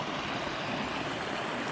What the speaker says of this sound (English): it's now going through the culvert like it's supposed to.